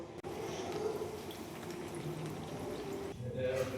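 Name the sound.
mango malpua frying in oil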